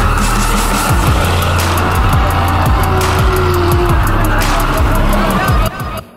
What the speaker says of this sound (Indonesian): ini kondisi pas di sini nih cocoknya dikasih suara mobil sedang berjalan ya